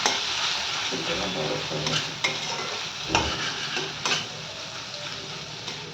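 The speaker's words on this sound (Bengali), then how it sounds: "পেঁয়াজটা লাল লাল হয়ে গেছে, এবার এর মধ্যে দিয়ে দিচ্ছি মাছের তেলটা।" Fish oil hitting browned fried onions in a hot pan, a steady close sizzle with scraping stir strokes and occasional spoon clicks against the pan throughout.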